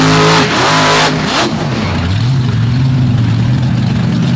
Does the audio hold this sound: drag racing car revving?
yes